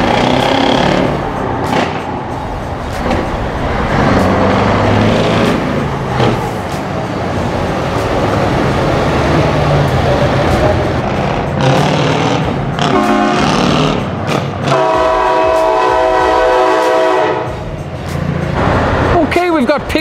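Truck horns blasting at a large truck show in Ireland, with a sustained loud air-horn chord rising out of crowd noise and engine rumble, people talking nearby throughout.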